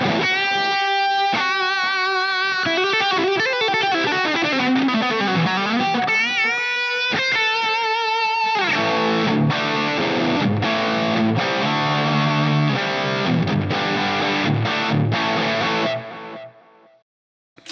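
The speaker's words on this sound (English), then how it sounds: "and all out distortion" A heavily distorted electric guitar through a Line 6 Helix plays a loud, sustained riff, shifting into chunky chords before cutting off abruptly at the end.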